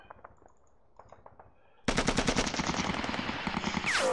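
Sustained rapid machine gun fire from John Tiller's Sealion '40 wargame, a loud burst of rattling shots that starts abruptly after quiet and runs steadily, with a rising whistling sound near the end.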